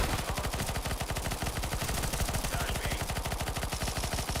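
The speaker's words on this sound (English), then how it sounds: "With 64 bullets and a relatively low SMG fire rate, you can actually sustain rather long bouts of suppressive fire" Long sustained burst of rapid automatic fire from a PP-Bizon submachine gun in CS:GO, evenly spaced loud shots continuing without pause throughout.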